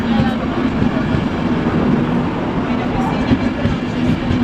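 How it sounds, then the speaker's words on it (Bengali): An international EuroCity train pulls into a station in Germany on a route toward the Czech Republic and Budapest, giving a steady, loud rumble of rolling wheels and a low hum throughout, with faint voices around the platform. "এই তো ট্রেন ঢুকছে।"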